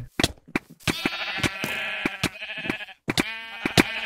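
Repeated wavering bleats from a sheep in the Minecraft video game, loud and close, interrupted by sharp rhythmic clicks and taps.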